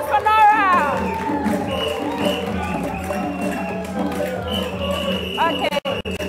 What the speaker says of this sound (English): A round of applause for Nora.